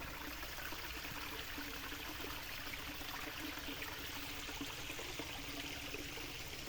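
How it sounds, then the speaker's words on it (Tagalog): Steady babbling stream water, a continuous rushing trickle close by with no pauses and no voices. "hanap tayo ng may something na may lagaslas ng tubig"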